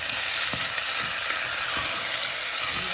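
Chicken feet fry and get stirred in a pot for brown stew, a steady, loud, close sizzle broken by occasional soft scraping stirs, with no talking.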